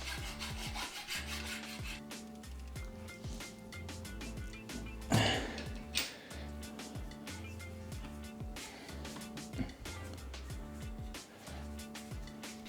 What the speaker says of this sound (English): Now, to accommodate the mounting bracket, I need to sand out some aluminum.